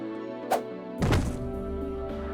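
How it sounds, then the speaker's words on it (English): A bag landing with a light thud in the visual novel Tsukihime, a single soft low thump just after a brief earlier tap, then a faint lingering hum of background music. "A black object lands in front of me. With a light thud, my bag"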